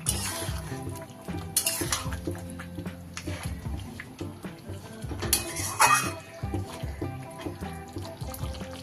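Spoon stirring cashew-poppy paste into chicken rezala gravy in a pan: wet scraping and clanking of utensil against metal, with splashy watery churning, irregular bursts close by, fairly steady over several seconds.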